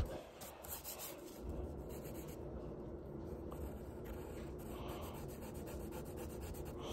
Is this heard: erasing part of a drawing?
yes